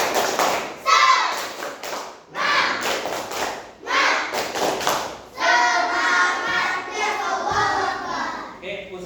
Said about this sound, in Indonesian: Ustadz mau minta tepuk semangatnya dulu. Tepuk semangat.